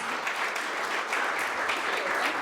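Audience applause at a pitch night event in Green Bay, a steady, even wash of clapping throughout, moderately loud with no clear speech over it.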